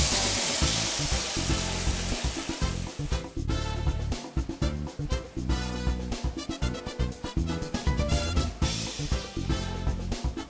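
Tofu with vegetable broth and taco seasoning sizzles hard in a pan, a loud, busy crackle and hiss with bursts of popping and bubbling, close and continuous, with no talking.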